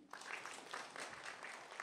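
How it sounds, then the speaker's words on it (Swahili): A crowd at a political rally in Tanzania claps in a steady burst of applause, faint and distant, for about two seconds. "Tumpigie makofi mengi"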